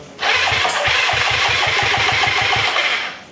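A car engine cranks steadily with a fast rhythmic chug from the starter for about three seconds, loud and close, without catching or running on its own.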